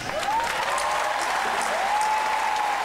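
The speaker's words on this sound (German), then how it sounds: "Applaus!" Steady, dense applause fills the whole stretch at an even level, with a thin whistling tone gliding through it; no voices are heard.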